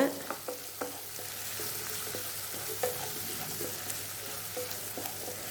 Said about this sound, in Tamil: நல்லா எண்ணெயில் நல்லா வதங்கி வந்திருக்கு. நல்லா கிளறி விடுங்க.